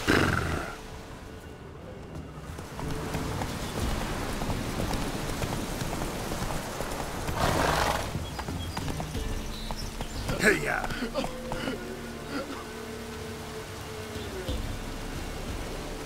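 Horse Roach galloping in The Witcher 3, a steady clip-clop of hooves running through the whole stretch under ambient game sounds and a voice urging the horse on.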